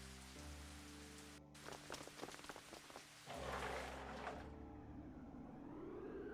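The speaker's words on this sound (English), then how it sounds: "The rain began coming down even harder." Heavy rain pours in the Higurashi visual novel, a loud dense hiss that surges louder partway through, with sustained musical tones underneath. There is no speech.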